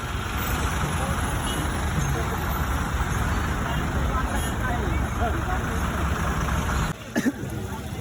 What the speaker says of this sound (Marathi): water tanker truck